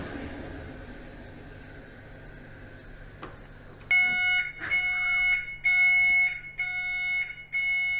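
A household smoke detector alarm starts abruptly partway through, sounding in loud repeated shrill beeps with short gaps after a quieter stretch of room noise.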